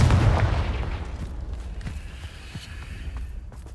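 A Confringo spell explosion in Hogwarts Legacy: a loud, booming blast up front that rumbles and creaks as it decays into a fading tail over a few seconds.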